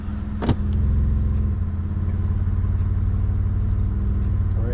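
A repaired Kia or Hyundai car starts with a sharp crank burst, then settles into a steady, close engine idle with a faint ticking rhythm.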